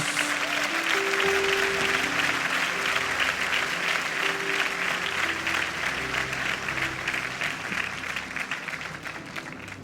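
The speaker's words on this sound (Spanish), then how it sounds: "Dele un aplauso a Jesús." A church congregation claps steadily and loudly, sustained applause that tapers slightly toward the end.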